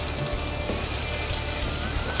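Half a minced jalapeno sizzles in a tablespoon of canola oil in a pan, giving a loud, continuous frying hiss with no talk.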